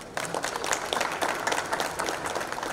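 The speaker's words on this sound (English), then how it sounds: "can we have a louder round of applause?" Audience at a property exhibition inauguration clapping in a dense, sustained round of applause, fairly even in loudness and heard from within the crowd.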